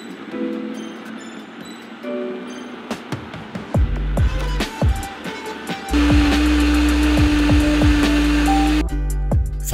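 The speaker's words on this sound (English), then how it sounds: "combine them in a blender." Roasted vegetables and spices are pureed in a kitchen blender: clatter and knocks first, then a loud, steady motor whir close by that runs on before cutting off.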